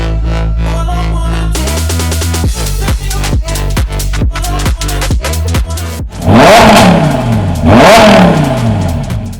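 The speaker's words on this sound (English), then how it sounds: "Time to gain full control of the exhaust valves on this Audi R8." An Audi R8 V10 engine revs hard several times, sharp throttle blips and deep roaring exhaust bursts, loud and close with no talking.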